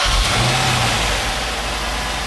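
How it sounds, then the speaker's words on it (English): A 2008 Chrysler 300 SRT with a 6.1L HEMI V8 starts with a low thump, then revs up strongly and settles into a loud, steady, close-up engine drone. "we're going to get back in with trippy little key, start up this car"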